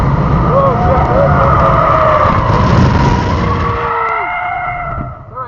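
Tires on a Tesla P3D in Track Mode screech loudly and continuously as the car spins around on the Buttonwillow Raceway track, wailing tones sliding up and down over engine and road roar before fading at the end.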